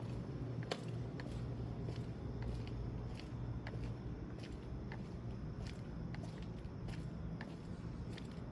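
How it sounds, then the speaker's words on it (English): A car comes up from behind along a street: a steady low engine-and-tire rumble that holds throughout, with light footstep ticks on top and no talking. "I hear a car coming behind me, I think."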